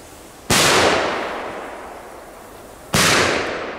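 Two sharp, loud Belgian firecracker blasts go off a couple of seconds apart outdoors, each bang leaving a long fading echo.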